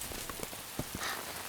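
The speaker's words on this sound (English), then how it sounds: "It's starting to rain." Rain falling in an animated children's cartoon, a soft steady patter of drops with a few louder taps standing out, heard on its own without voices.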